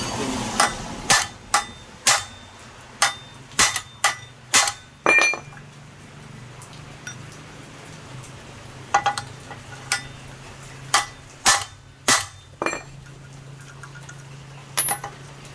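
Hammer blows flattening rivets while replacing a Honda Supra clutch bell, sharp metallic strikes in quick rhythmic runs with a pause midway, loud and close, without speech.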